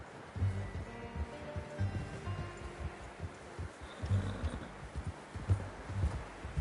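Horse hooves clip-clop at a steady walking pace in Red Dead Redemption 2, soft thuds repeating under a low ambient bed with faint rustle, no talking.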